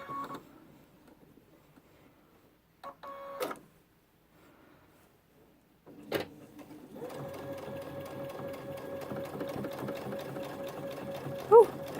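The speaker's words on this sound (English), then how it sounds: "we'll see how this sewing machine goes over this big old pile." A sewing machine stitches through a thick backpack bottom, starting after a few handling clicks and then running in a steady rapid mechanical chatter for several seconds, close and loud.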